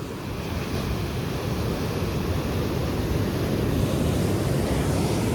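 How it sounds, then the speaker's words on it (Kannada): Large ocean waves break and wash continuously on Honey Beach in Ankola, a broad, loud roar of surf mixed with wind buffeting the microphone, with no voices. "ವೇವ್ಸ್ ಜಾಸ್ತಿನೇ ದೊಡ್ಡದಿದೆ"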